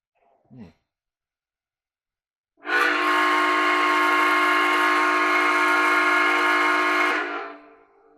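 Lionel O-scale 2-8-0 Consolidation model steam locomotive, New Hope & Ivyland Railroad #40, sounds a steady, loud electronic steam whistle for about four seconds after a brief faint noise, then fades out.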